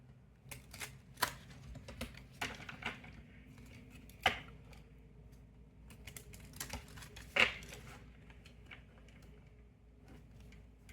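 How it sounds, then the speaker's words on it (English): A pocket deck of oracle cards is shuffled close up, a quiet run of soft riffling clicks and taps with a few sharper snaps, alone without talk. "Let me shuffle it a couple of times."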